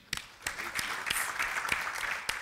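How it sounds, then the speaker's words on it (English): Audience applause after a call to thank sponsors at a presentation on innovation and technology in Tanzania, a steady wash of clapping with sharp individual claps standing out over 2 seconds. "Could we clap for these guys?"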